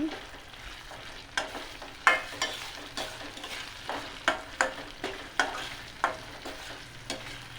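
Veldt grape chutney with tamarind frying gently in a pan on a low flame, with a soft steady sizzle and regular clinking stirs in an irregular rhythm, close and alone without talk.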